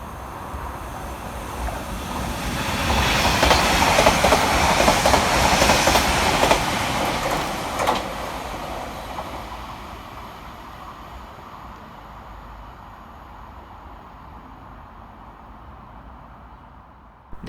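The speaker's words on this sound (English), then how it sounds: "Flying through the station for Northern will be 331-111, working 1 November 82 from Liverpool Lime Street through to Blackpool North." A Northern class 331 electric train, unit 331-111, speeds through Broad Green station without stopping, a rushing roar and rail clatter that builds loud in the middle, then fades into a long, quieter trailing rumble.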